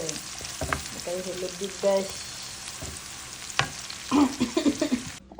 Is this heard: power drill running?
no